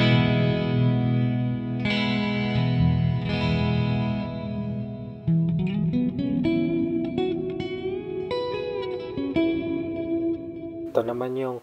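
Clean electric guitar tone from a Digitech RP55 playing chords and single notes, shimmering with chorus, echoing delay and spacious reverb, close and steady throughout.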